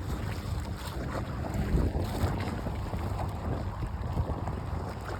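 Water by a bay, a steady broadband wash of waves heard outdoors under strong wind buffeting the microphone, continuous and fairly loud with no voices.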